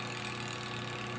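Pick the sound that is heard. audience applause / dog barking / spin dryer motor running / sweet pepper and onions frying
spin dryer motor running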